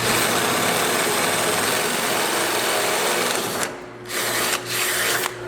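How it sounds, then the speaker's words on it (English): A power drill whirs loudly and continuously, then slows and stops briefly before spinning up again in short bursts. "I'm gonna start off by drilling a larger hole"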